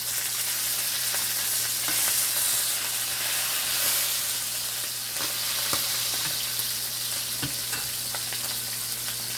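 Codfish and festival dumplings frying in hot oil for a Jamaican escovitch dish, giving a steady dense sizzle throughout with a low hum and occasional sharp crackles and pops.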